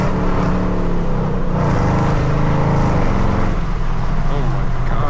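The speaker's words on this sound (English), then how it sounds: "Oh my god, those downshifts are crazy." A straight-piped Camaro SS with paddle shifters thunders through downshifts, its exhaust a loud, continuous, crackling roar that rises and falls as the revs change, close by and steady from start to finish.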